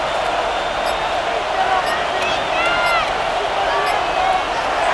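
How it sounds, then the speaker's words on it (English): A stadium crowd roars on third down in a Madden NFL 26 Seahawks–Panthers game, a steady, dense wash of cheering with scattered whistles rising above it. "This crowd into it now as we get to 3rd down."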